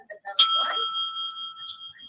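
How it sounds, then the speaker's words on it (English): A single bell struck once by the timekeeper at a school English debate competition, ringing out sharply with a long, clear sustained tone that fades slowly, heard alone in a quiet hall. "The timekeeper will ring the bell once"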